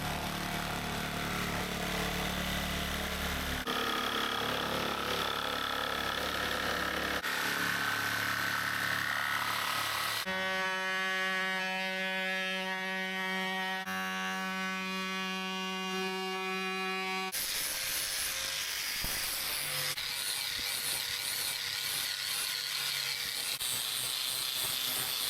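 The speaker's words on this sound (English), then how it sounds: "once we've trimmed it up with our jigsaw, we'll then use the grinder to shape the edges" Jigsaw trimming a carpet-lined panel in a VW Caddy van, with a continuous buzzing motor whose pitch shifts as the cut goes on, loud and close throughout.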